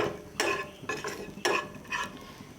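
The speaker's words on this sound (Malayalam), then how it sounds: "ഇതെല്ലാം കൂടി നന്നായി ഒന്ന് മിക്സ് ചെയ്യാം." A spoon scrapes and stirs chili and turmeric powder in a pan in a few rhythmic strokes, close and moderately loud, with a soft background hiss.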